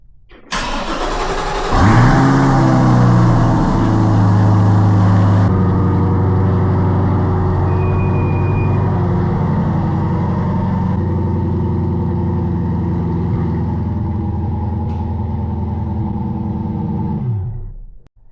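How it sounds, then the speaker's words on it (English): A Chevrolet Corvette C8 cold-starts with a loud starter crank and a sharp engine flare. It then settles into a high, steady idle that holds for many seconds before the engine shuts off near the end. "let's just do a cold start on the C8"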